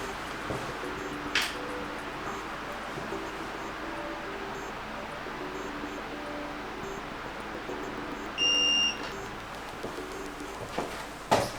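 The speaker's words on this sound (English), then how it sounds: "Okay, I heard the long beep" A steady electronic reset beep from a Xiaomi Smart Standing Fan 2 Pro sounds for about half a second, a high clear tone over quiet room noise, with a few faint clicks before and after.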